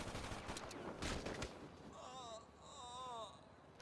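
Gunfire in the GTA V video game: a burst of sharp shots up front, then a wailing siren rising and falling under it, the whole thing fairly faint.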